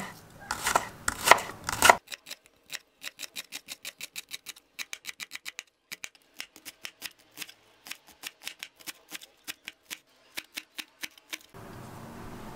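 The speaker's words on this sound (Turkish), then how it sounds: "Şöyle yarım demet yeşil soğanım var. Şu sap kısımlarını olabildiğince ince ince doğrayalım." A knife taps rapidly and evenly against a cutting board in a long run of crisp chops through green onion stalks, close by, after a brief burst of rustling at the start.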